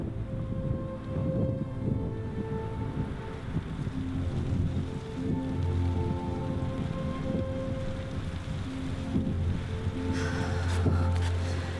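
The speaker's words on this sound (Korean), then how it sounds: "떨어지는 빗방울에" Steady rain falls in a Canadian Rockies mountain landscape as the sky darkens, a continuous dense hiss with a low rumbling undertone, fairly close and unbroken throughout, with no voices.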